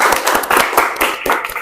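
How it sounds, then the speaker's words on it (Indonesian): Classroom applause in an Indonesian networking lesson on router configuration, a steady burst of many hands clapping together, fairly loud and close, filling the short moment with no talk over it. "Oke, tepuk tangan."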